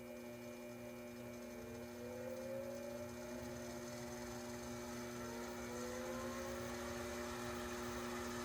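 Electric motor spinning up on a crankshaft balancer in a shop, a steady whirring hum with tonal whine that rises in pitch partway through, then holds at speed.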